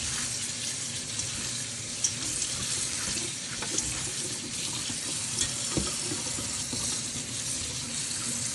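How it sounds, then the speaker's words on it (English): Cabbage being washed under a running kitchen tap, a steady broadband rush of water into a sink with small splashes and knocks from handling the leaves, close and continuous for the whole stretch. "So what I'm over here doing is washing the cabbage."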